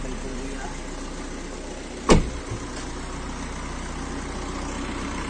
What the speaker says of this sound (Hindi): इसका इंजन तो काफी नॉइस करता है